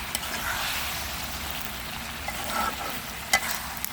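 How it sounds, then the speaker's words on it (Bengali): Pangas fish and Malabar spinach curry being sautéed in a pan, a continuous soft sizzle with faint stirring scrapes and a sharper clink near the end, no talking. "তরকারিটা এখন সুন্দর করে আমি কষায় নেব"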